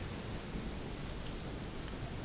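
Heavy pelting rain in the game Shadowrun Hong Kong, a dense, unbroken hiss of drops hitting surfaces, loud and even from start to finish with no voices.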